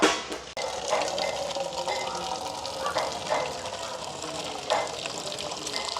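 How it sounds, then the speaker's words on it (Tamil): Starchy water drains off a pot of cooked rice in a continuous close-up gush and splash that keeps a steady pour for several seconds. "அம்மா இப்போ அரிசியை வடிக்க போகிறாங்க."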